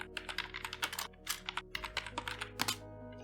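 Computer keyboard keys and mouse clicks in an Unreal Engine material editor session, a quick run of close, crisp taps and clicks over a steady faint hum, with no talking.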